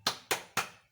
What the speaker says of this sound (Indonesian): tepuk semangat dulu seperti biasanya